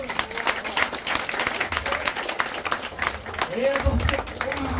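An audience at a hypnosis show claps for a volunteer on stage, a moderate burst of applause mixed with crowd noise and some voices, fairly close and sustained throughout.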